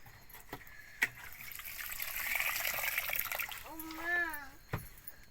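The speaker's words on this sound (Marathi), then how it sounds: "आता अनेक पाण्यानं धुवून घ्यायचं" Cooked green chillies being rinsed in water for a rustic chilli-in-yogurt dish, with steady splashing and sloshing and a few sharp knocks, while a voice speaks briefly near the end.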